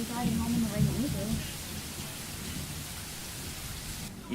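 Steady rain falls outside at night, a continuous close hiss throughout, with a brief tonal murmur near the start.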